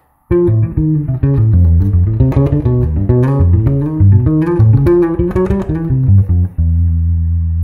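A low, plucked bass guitar runs quickly through a jazzy 2-5-1 phrase, steady and close, ending on a sustained low note.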